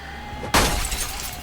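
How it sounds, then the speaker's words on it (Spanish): A window pane shatters in the zombie-survival game Project Zomboid, one sudden loud crash of breaking glass followed by a trailing tinkle of falling shards, with no voices. "Decidí romper la ventana y quitar los cristales para ingresar luego."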